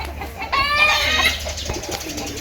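Racing pigeons in a loft give soft cooing and burbling calls close by, with a brief flutter of movement over a low steady hum.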